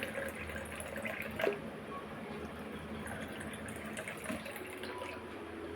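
Cold water is poured steadily into a raw mango drink with a gentle trickling fill and a few drips, fairly quiet and close.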